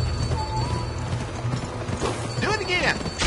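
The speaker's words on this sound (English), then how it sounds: "Press the sprint button to spur your horse." A horse spurred into a sprint in the western video game Gun, hoofbeats clattering briskly over game ambience and mechanical clicks, fairly loud and close, with a brief whinny-like call near the end.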